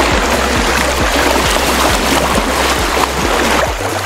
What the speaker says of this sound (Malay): kita sedang menyeberangi sungai